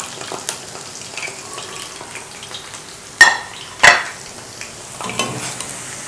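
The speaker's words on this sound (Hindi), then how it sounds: "अब इनको दोबारा फ्राई करना है क्रिस्पी होने तक।" Boondi being fried a second time until crispy, a soft steady sizzle of hot oil with a few sharp clinks and scrapes of a utensil against the pan.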